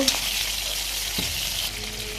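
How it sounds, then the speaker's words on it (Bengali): Poa fish fry in hot oil while being turned in the pan, giving a loud, steady close sizzle with a brief stir or scrape. "মাছগুলি উল্টিয়ে দিচ্ছি"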